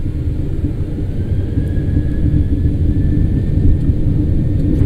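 Inside the cockpit of a Norwegian Boeing 737 departing Oslo, a loud, steady, deep engine rumble builds slightly during the takeoff roll, with a faint high whine riding above it and no voices.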